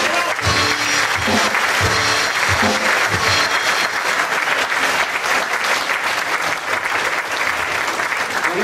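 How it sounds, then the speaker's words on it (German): An audience at a German community event in 2012 gives sustained, dense applause for a council member being introduced, a steady roar of many hands clapping at even volume for several seconds. "Applaus."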